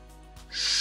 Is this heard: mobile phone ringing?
no